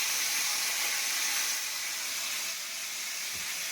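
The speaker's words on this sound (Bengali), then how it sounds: "এই যে তেল গরম করেছে, ইলিশ মাছের মাথাগুলো একে একে দিয়ে দেবো। ঠিক আছে, তিনটে তিনটে করে ভাজি।" Hilsa fish heads fry in hot oil, a steady, dense sizzle and hiss filling the whole moment without a break, close and fairly loud.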